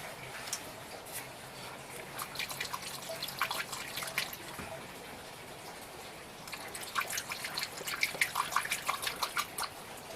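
Red antifreeze trickling out of a boat engine drain during winterizing, a soft, irregular patter of drips that thickens into a busier dribble toward the end.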